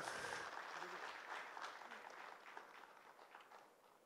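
Steady applause from an audience at a book launch, a dense wash of clapping that holds and slowly fades across the whole stretch, fairly faint and distant.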